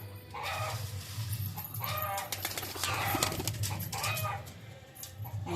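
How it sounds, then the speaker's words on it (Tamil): Domestic pigeons coo in the morning as they gather to be fed, with overlapping soft, throaty calls repeating in waves at close range. "அதான் புறாக்கள் உடனே நம்ம கூப்பிட்டோன்னு ஓடி வருது."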